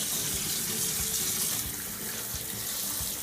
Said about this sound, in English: Rinse it off with cold water.